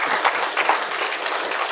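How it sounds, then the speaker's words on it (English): An audience at a Blackfoot Confederacy conference breaks into steady applause, a dense wash of clapping that holds at an even level throughout. "How about a nice round of applause?"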